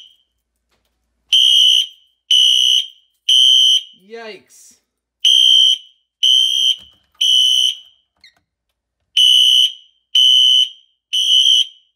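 A piercing electronic smoke alarm beeps loudly in repeated bursts, three at a time with short pauses, and one voice briefly exclaims partway through.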